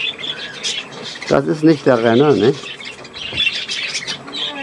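A pet cockatiel gives a loud squawk followed by a series of chirps and a wavering call, heard up close with a person talking softly in German around it.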